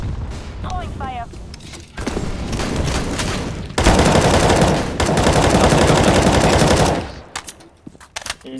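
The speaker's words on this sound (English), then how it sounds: "Flashbang. Throwing fire." Flashbang and fire grenade thrown during a competitive tactical shooter match on a custom map, followed by loud sustained gunfire and bursts that dominate several seconds before cutting off, with a player's voice calling out beforehand.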